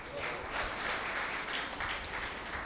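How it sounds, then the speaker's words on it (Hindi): An audience at a literary award ceremony and mushaira claps steadily for an honoree, a dense, moderately faint patter of many hands sustained throughout. "इसके लिए वजाहत साहब के लिए ज़ोरदार तालियां।"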